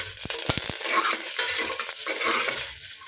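Curry leaves and dried red chillies fry in a hot pan, giving a close, continuous sizzle broken by a few quick stirring knocks and scrapes.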